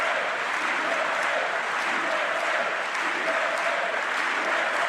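Steady, dense applause from a large crowd at a State of the Union address, a continuous wash of clapping heard from a distance with no break across the few seconds.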